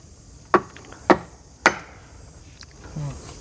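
Wood is pounded in the forest to prepare a roof, three sharp loud strikes about half a second apart, then a fainter knock, over a steady background hiss with a brief murmur near the end.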